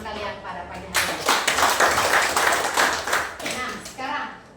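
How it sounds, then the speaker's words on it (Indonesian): A class of students bursts into clapping, a dense burst of many hands that swells quickly, holds for a few seconds and tapers off, with children's voices chattering underneath. "tepuk tangan dulu untuk pemahaman kalian pada pagi hari ini"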